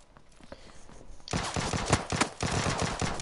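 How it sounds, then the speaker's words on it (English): Gunfire from the video game PUBG, with an AK among the weapons, crackles in rapid bursts of automatic shots that start faint and then turn loud and dense after a second or so, continuing in clustered volleys. "I hear bang bangs."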